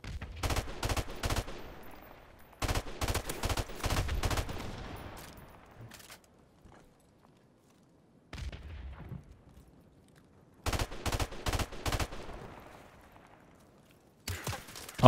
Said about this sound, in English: they all get drilled by the automatic gun.